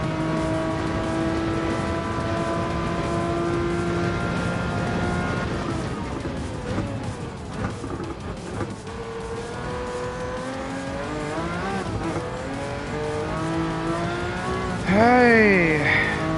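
A race car in Gran Turismo 7 revs hard through its gears, engine pitch climbing and dropping with each shift, then tires squeal sharply near the end, with a voice talking over the steady roar.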